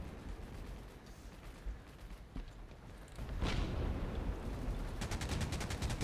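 Gunfire in the shooter game Heroes and Generals, bursts of rapid shots at moderate distance that build into a louder, denser volley in the second half.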